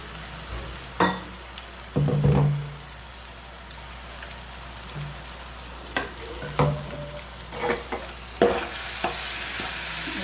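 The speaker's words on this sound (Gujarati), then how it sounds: "મિક્સ કરી લઈએ સરસ. સાથે સાથે ટમેટાની પ્યુરી પણ એડ કરીએ." A spoon stirs a tomato puree mixture frying in a pan, with a soft steady sizzle underneath and sharp scraping knocks of the utensil against the pan every second or two.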